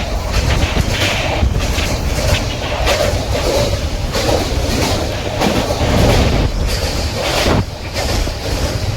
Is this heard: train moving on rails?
yes